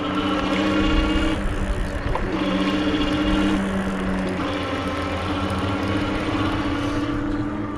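Ariel Rider D-Class e-bike with a geared rear hub motor, giving a steady mechanical buzz and whine under the sound of the ride, continuous and moderately loud.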